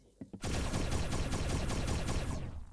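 Gunfire from the Roblox game Arsenal starts after a few brief taps and becomes a rapid, dense burst of shots. It stays loud and close until the end.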